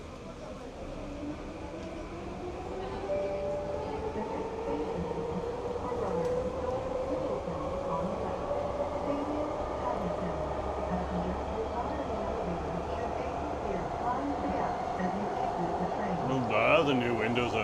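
Steady rumble and whine of a Vancouver SkyTrain Mark 5 car in motion, a continuous ride with rising and falling motor tones heard from inside, with a voice talking faintly over it.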